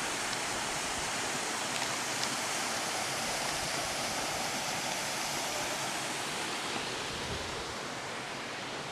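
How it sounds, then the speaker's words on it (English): At Janar Falls, water pours steadily over rock pools in a dense, unbroken rushing roar, close and constant, with no voices over it. "Pretty awesome sets of falls."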